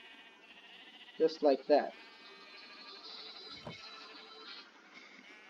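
Sheep bleat in a Minecraft sheep farm, two or three short loud bleats in quick succession, followed by a brief spoken phrase over a low background hum.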